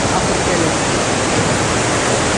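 A stream flows through a village valley where children wade into it, giving a loud, steady, close rush of water that fills the whole stretch without pause.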